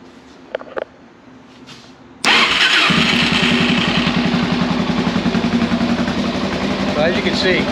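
A motorcycle engine cranks and catches abruptly, then settles into a loud, steady running idle with a rapid mechanical rumble, following a few faint clicks and handling sounds; the starter clutch is worn.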